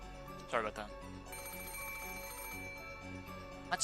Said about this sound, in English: the ring of the phone, which had once sounded like a scream for help